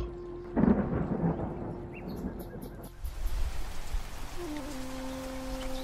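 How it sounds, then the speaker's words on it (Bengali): A heavy monsoon downpour sound effect with thunder: a low rumbling roll opens, then a steady rain hiss continues, with soft sustained musical tones beneath. "তুমুল বৃষ্টি।"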